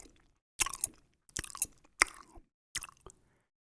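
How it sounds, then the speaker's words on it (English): Loud, wet gum chewing close to the ear, in four separate bursts of smacking, squishy mouth sounds with short silent pauses between them. "Yo, he was chewing that gum."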